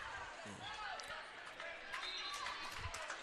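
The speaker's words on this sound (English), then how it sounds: "Eagles can dribble it out." A basketball is dribbled in the closing seconds of a women's college tournament semifinal. Faint rhythmic bounces on a hardwood court sit under a commentator's voice and gym crowd noise.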